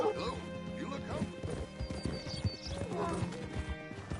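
Horse hooves clip-clop in a Wild West farming video game on PlayStation 5, steady near hoofbeats with knocks and a brief whinny under game music.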